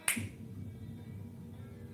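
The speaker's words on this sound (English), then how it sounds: "I snap my fingers" A single sharp finger snap right at the start, close and crisp, followed by a low murmur of room tone with no talking.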